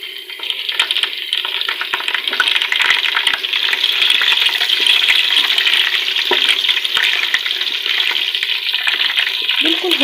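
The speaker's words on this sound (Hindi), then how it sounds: "बिल्कुल हल्का सा हमने इसे गोल्डन होने तक छोड़ना है लहसुन को" Garlic frying in oil in a pan for a beef Bihari masala tadka, a steady close hiss and sizzle with faint crackles running throughout.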